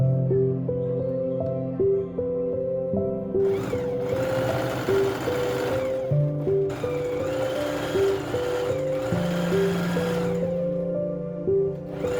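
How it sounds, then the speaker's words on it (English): Sewing machine stitching around the edge of fabric for a DIY home decor project, a steady rapid whirring hum with brief pauses and restarts, close and fairly loud. "The next step is sew around the edge, leaving an inch gap for the pull string."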